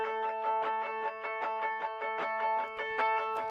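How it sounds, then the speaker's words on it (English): A single electric guitar part plays octaves in a steady run of rapidly picked, evenly spaced notes, close and clear with a bright, slightly effected tone, alone and without any voices. "So it's basically a part where a guitar is playing octaves."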